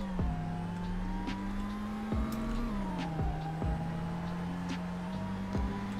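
In the Roblox game Greenville, a car launches with launch control, its engine drone climbing steadily in pitch with brief dips at gear shifts, loud and continuous with no talk.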